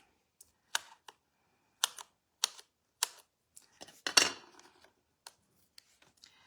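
Scissors cut paper around the edge of a handmade stamped card in a series of crisp, close, separate snips and clicks, with a busier cluster of cuts partway through and quiet between them.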